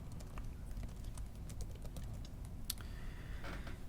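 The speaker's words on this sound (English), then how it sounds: "we can just start typing" Rapid, light keystrokes on a computer keyboard, an uneven stream of clicks over a low steady hum.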